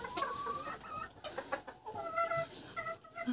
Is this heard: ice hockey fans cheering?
no